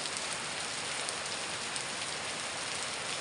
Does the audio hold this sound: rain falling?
yes